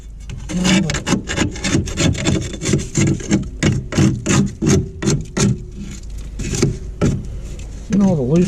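A scraper rasps loose debris off the deck of a push mower in quick, uneven back-and-forth strokes, close and gritty, with someone talking at times over the scraping.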